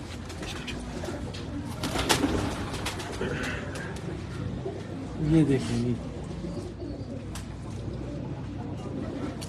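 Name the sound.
pigeons cooing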